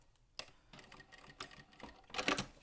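Sewing machine top stitching a pack gusset: several short bursts of rapid needle clatter, stopping and starting, with the final run loudest and closest.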